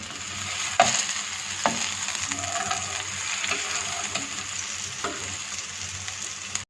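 An egg white omelette cooking in a non-stick frying pan, a soft continuous sizzle with a few sharp taps and scrapes of a utensil against the pan, close and moderate in level, without any talking.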